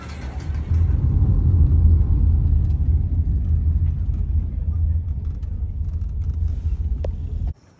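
A car drives along a village road, a steady low engine rumble with road noise that starts after a moment and cuts off abruptly near the end.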